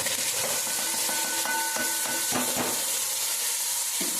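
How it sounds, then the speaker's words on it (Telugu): Cauliflower goes into a pan of frying onions and green chillies, raising a loud, close, continuous sizzle with a few stirring knocks and scrapes. "ఉల్లిపాయలు పచ్చిమిర్చి అయితే ఎగుతా ఉన్నాయండి ఇప్పుడైతే నేను కాలీఫ్లవర్ వేస్తున్నాను ఇందులో"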